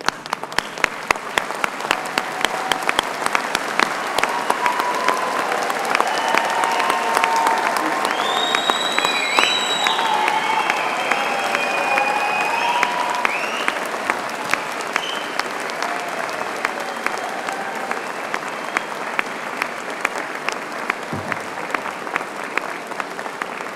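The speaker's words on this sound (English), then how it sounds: "join me in making a well-deserved round of applause" Graduation ceremony audience at Birmingham City University gives a long, loud, sustained round of applause with dense clapping throughout, some scattered cheers and whistles near the middle, tapering slightly toward the end.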